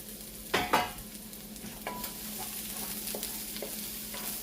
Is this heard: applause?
no